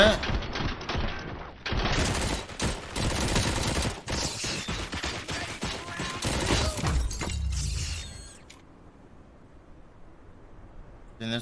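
Gunfire in Robocop Rogue City: dense bursts of automatic shots and impacts with shattering and clattering mechanisms for about eight seconds, some voices mixed in, then the firing stops and a low quiet hum remains.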